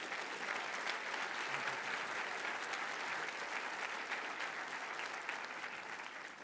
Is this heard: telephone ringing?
no